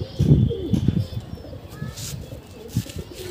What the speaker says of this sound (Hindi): कबूतर उड़ रहे